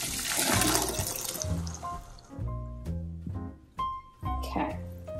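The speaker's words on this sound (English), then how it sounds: "I'm going to drain them and" Cooked beans drained into a measuring cup in a home kitchen, the bean water poured and kept; a splashy liquid rush opens loudly, then tapers into trickles and clinks, with a person talking over it.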